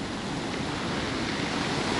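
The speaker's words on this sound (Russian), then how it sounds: "Посмотрите, какие сильные волны." Strong sea waves surge against a low breakwater on the Sochi coast at Adler, a dense, continuous roar of churning surf with wind buffeting the microphone, loud and close throughout.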